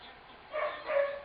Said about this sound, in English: Sorry about the barking. It's my dog.